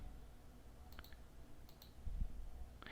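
A few quiet, quick clicks of calculator keys being pressed, isolated taps spaced across a faint background hiss.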